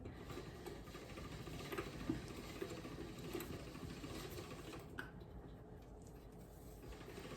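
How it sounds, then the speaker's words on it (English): A hand-cranked pasta machine rolls out fresh pasta dough with a faint, steady mechanical whir and soft ratcheting clicks that continue throughout, quiet and close. "Feed it through and crank him on through, and then just gently guide it out."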